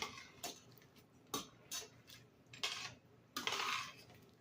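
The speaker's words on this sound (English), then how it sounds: "I'm adding my pound of elbow macaroni" A pound of elbow macaroni is poured into a pot, making a scattered series of dry clinks and rattles in quiet irregular bursts, the last one longer.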